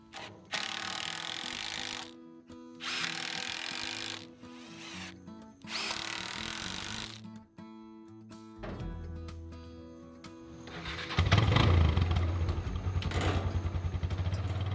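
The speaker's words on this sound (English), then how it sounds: "I attached the supports to the frame with 3-inch deck screws." Power drill driving 3-inch deck screws into a wooden 4x4 firewood rack frame outdoors, several loud whirring bursts separated by short pauses, then a longer heavier grinding run near the end, with no talking.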